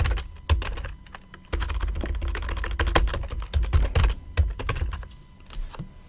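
Typing a password on a computer keyboard, a rapid irregular run of close, crisp key clicks with short pauses, alone without talk.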